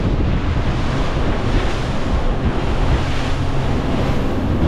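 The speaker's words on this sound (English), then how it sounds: "We have got some fairly lumpy waves coming in here" Big, lumpy waves and strong wind hitting a sailing boat at sea on a rough passage from Cardiff to Swansea, a continuous loud roar of rushing water and wind buffeting the microphone with no let-up.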